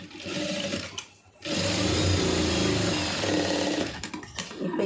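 A sewing machine runs steadily while stitching grape silk cloth for a blouse cup, its loud motor whir broken by a brief pause near the middle before resuming.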